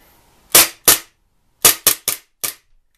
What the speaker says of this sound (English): I will show you how the recoil is for this pistol.